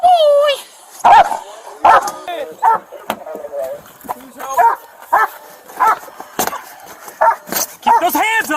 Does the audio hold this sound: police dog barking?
yes